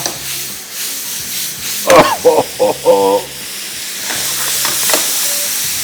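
Green chillies fry lightly in a pan, a soft, continuous sizzle with a few short voice-like bursts in the middle before the hiss swells slightly toward the end.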